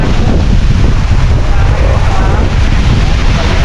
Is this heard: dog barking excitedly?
no